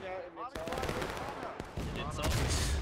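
Musket volley fire from Civil War infantry in War of Rights on the Railroad map, a dense crackle of overlapping shots rolling across a few seconds, loud and close, with a shouted command at the start.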